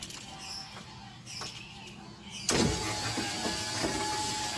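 After a quiet stretch with faint clicks, the power window motor of a 1997 Isuzu Panther Hi Sporty starts abruptly and runs with a steady whirring hum, close and moderately loud.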